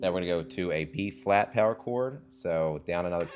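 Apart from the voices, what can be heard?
No everyday noises stand out.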